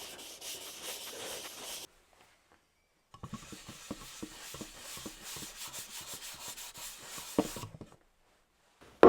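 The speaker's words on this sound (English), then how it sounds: "I've just got a soft cloth and I'm going to get this rubbed in to all the bare wood" A soft cloth rubs handicraft wax into bare wood on a small display stool, giving a close, steady swishing with rhythmic strokes that stops, pauses and starts again, then ends with a brief knock.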